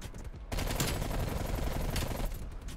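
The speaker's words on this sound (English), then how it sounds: "I'm getting shot at" Automatic gunfire from a QBZ-83 rifle in a shooter video game: a sustained rapid burst that starts abruptly and carries on for about two seconds before easing off, with no voices.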